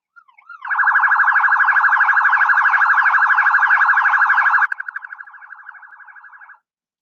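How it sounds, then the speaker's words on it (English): A two-tone emergency vehicle siren alternates rapidly between two pitches, loud and near, for about four seconds, then drops to a quieter, thinner tone before cutting off; no voices. "two tone or what we know here in America"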